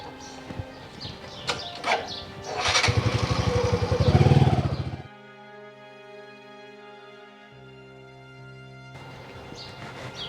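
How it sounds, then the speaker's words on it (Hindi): A motorcycle rides past in a rural Haryanvi comedy drama, a rough engine roar swelling over a few seconds and then cutting away, followed by steady tonal background music. "कौन था मोटरसाइकिल वाला कौन? जो गया सा वो?"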